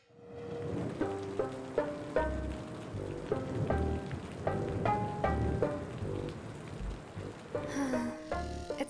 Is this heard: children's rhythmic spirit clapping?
no